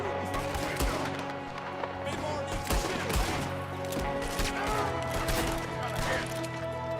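Gunfire rings out in a Red Dead Redemption 2 shootout, with repeated sharp shots scattered through dense game music and effects, a steady loud barrage with no clear pauses.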